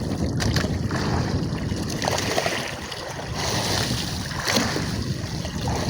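Large sea waves slosh and slap steadily around a small fishing boat on a windy day, with a rough, continuous wash and no talk.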